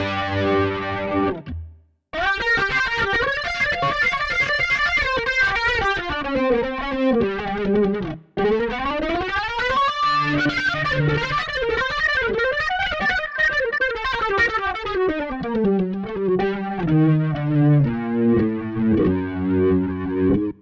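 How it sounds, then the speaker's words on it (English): A Roland GR-55 guitar synth on a gritty 70s rock lead organ patch plays a distorted, chorused melodic line with bending runs and sustained notes, loud and close, with a couple of brief pauses. "The first one I want to show you is like a rock lead type organ"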